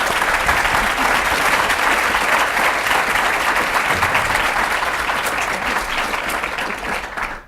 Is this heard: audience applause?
yes